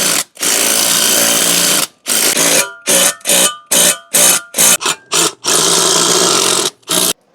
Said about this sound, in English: So now I'm going to go ahead and put the rest of the screws on.